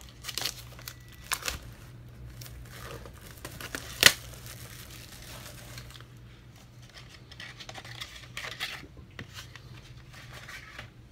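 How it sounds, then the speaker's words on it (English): Plastic wrap being peeled and crinkled off a Blu-ray Steelbook, with soft intermittent crackles and rustles close by and one sharp crinkle partway through, no talking. "let's unwrap it."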